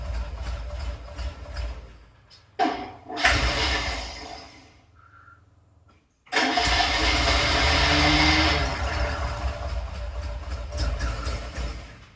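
A Tiger Cat E1 engine, started for the first time in ten years, roars and sputters loudly. It cuts out to near silence partway, then catches again and runs rough and steady.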